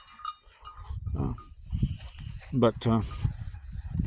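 Goats on a small dairy farm bleat twice in quick succession at close range, with a person talking quietly before and between the calls.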